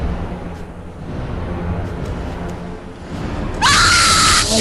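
A loud, shrill monster scream from the Slendytubbies horror video game erupts near the end, rising sharply over a low background rumble and holding steady until the clip cuts off.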